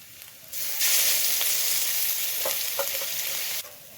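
Chopped onion and garlic sizzle steadily in hot oil in a pan, a loud continuous frying hiss with a few faint stirring clicks, starting after a brief quiet moment and cutting off near the end.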